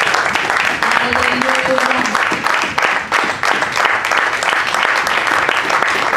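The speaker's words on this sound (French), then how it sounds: "Can we give a big hand of praise?" A church congregation applauds in praise, a dense, steady wash of clapping filling the whole stretch, with voices calling out beneath it.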